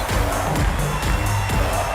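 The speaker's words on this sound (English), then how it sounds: "Listen to this crowd, David. They absolutely love Chantilly Chella." A wrestling arena crowd roars and cheers for Chantilly Chella at a Women Of Wrestling event, a steady wash of massed voices with rhythmic swells like chanting.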